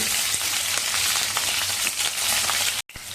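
Eggplant pieces sizzle and crackle steadily in hot oil for a village-style stuffed eggplant dish, a loud continuous frying hiss broken by a brief drop near the end.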